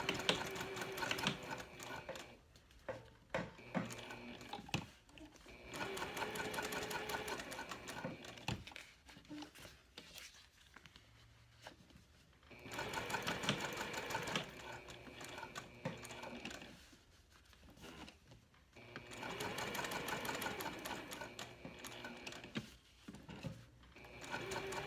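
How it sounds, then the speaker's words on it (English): Sewing machine chain stitching a fabric key fob wallet, running in rapid rattling bursts of several seconds separated by short pauses, close and clear with no talk. "And I'm going to chain stitch these."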